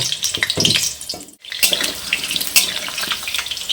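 Potatoes frying in hot mustard oil in a pan, a loud, continuous, hissing sizzle with crackling bursts and a brief dip partway through.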